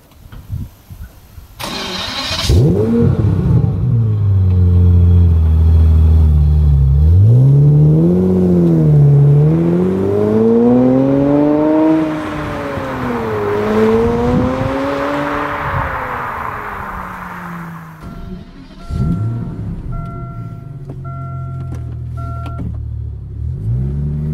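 A car engine cranks, catches and settles, then revs up and down in several long sweeping pulls, loud and close, before easing back to a steady idle.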